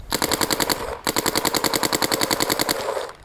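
Planet Eclipse CS3 and CS2 paintball markers firing in rapid automatic bursts: fast, evenly spaced sharp pops in a near-continuous stream, close and loud, with a brief pause about a second in before the shooting resumes.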